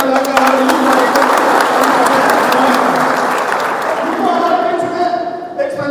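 Audience at a town hall inauguration in Bharatpur breaks into loud, sustained applause that fills the whole stretch, dense and steady before thinning slightly near the end.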